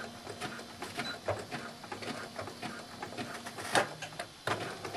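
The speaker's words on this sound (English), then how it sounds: "now I'm going to zigzag stitch." A domestic sewing machine zigzag stitches around the sleeve edges of an empire-waist swim dress, giving a steady close mechanical whirr and patter with a sharper clunk partway through.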